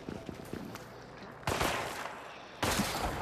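Gunfire in the video game After The Fall, with scattered light pops followed by two loud, sharp bursts that hit suddenly and ring out.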